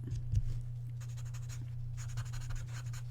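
A graphite pencil draws on paper with a continuous soft scratching, strokes swelling and fading over a steady low hum.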